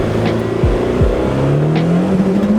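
A turbocharged Honda Civic pulls hard under full throttle, its engine note climbing, dropping sharply at the shift from first to second, and then rising again, loud and close.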